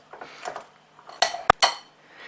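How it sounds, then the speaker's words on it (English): A fork mashes bananas in a bowl for vegan banana bread, giving a few sharp metallic clinks and scrapes against the bowl in quick succession, close and fairly loud, with no talking. "So let's start with mashing the bananas."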